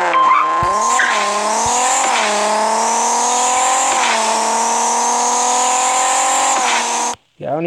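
Ford Falcon GT race car in the Racing Rivals game, its engine holding a loud, steady high-revving drone with brief pitch dips at shifts, ending in a sudden cutoff and a short clatter.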